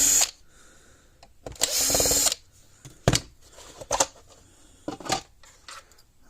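A power drill whirs once in a close burst of under a second while backing screws out of a Power Wizard PW100S solar fence charger, surrounded by quiet clicks and handling taps.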